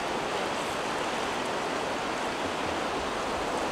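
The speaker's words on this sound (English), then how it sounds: "But look, the river's real pretty." A river in Gatlinburg, Tennessee, rushing steadily outside a steakhouse near a chairlift, a constant broadband wash of flowing water with no breaks and no talking.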